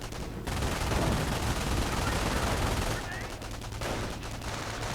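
Rapid bursts of gunfire and machine-gun fusillades crackle through a World War II real-time strategy battle as troops are shot, a dense steady barrage throughout with a louder stretch near the end.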